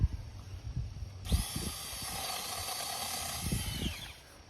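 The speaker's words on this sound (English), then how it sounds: "I want to watch you work your little mini chainsaw." A small mini chainsaw starts up and runs steadily at high pitch, its whine rising and falling slightly as it cuts tree limbs, with outdoor rumble underneath.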